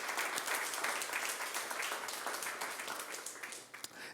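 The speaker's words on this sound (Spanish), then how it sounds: "Dámale ese aplauso al Señor bien fuerte." Church congregation clapping loudly for the Lord during a sermon, a steady dense wash of applause from many hands that continues throughout with a slight dip near the end.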